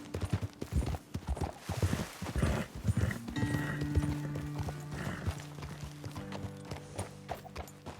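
Horses walk along in the Red Dead Redemption 2 video game, with close, rhythmic hooves clip-clopping and a whinny, while a sustained musical tone rises from the middle onward.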